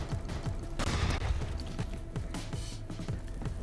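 Rapid bursts of shotgun fire in the video game Borderlands 3, a string of loud blasts and impacts over dense game noise, with no talk.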